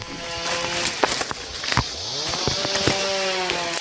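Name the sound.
chainsaws cutting wood in illegal logging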